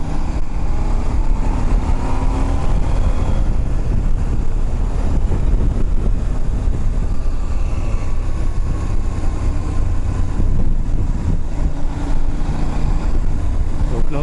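A KTM 790 Adventure motorcycle engine runs steadily while riding, its low rumble blended with heavy wind buffeting across the microphone throughout.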